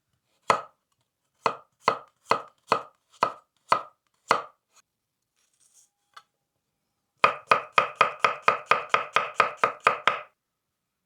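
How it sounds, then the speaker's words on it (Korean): A knife chops garlic on a board, first in about eight spaced, crisp strikes, then after a short pause in a fast run of a dozen or so close, even taps. "마늘을 다졌어요"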